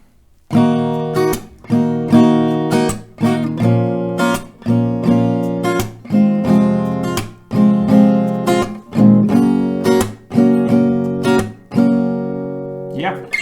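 An acoustic guitar strums a chord progression in a steady rhythm, each chord ringing out strongly before the next strum, with no talking.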